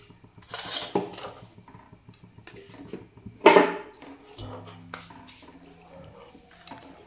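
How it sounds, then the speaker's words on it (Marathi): An egg beaten with a utensil in a bowl for chicken manchow soup: quiet, irregular clinks and scrapes, with a sharper burst of clatter partway through. "एक अंड घेतले, त्यात फोडलं आणि आता हे चांगलं हलवून घेते।"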